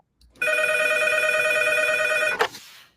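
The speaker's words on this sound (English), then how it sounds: "Did you hear the phone ring?" A telephone rings once in a steady, bright electronic tone lasting about two seconds, loud and close, then cuts off abruptly with a short click.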